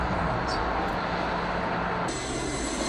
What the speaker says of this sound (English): Whoa, look, a Boeing 777.